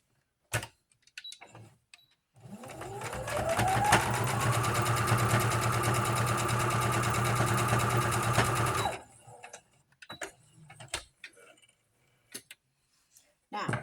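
An electric sewing machine stitches a fabric bowl cozy, whirring up to speed and running steadily for about six seconds before stopping, with sparse clicks and handling noises before and after.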